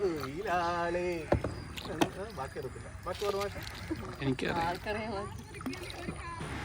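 A wooden country boat rowed across backwater, paddle strokes and light water splashes coming through beneath near, continuous talk and singing.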